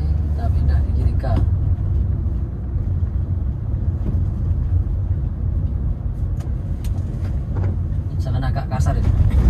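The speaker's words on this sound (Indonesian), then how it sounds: "Oke, kita pindah gigi 3." Honda Brio car driving on a drizzly road, steady low engine and road rumble inside the cabin while shifting into third gear, with someone talking over it.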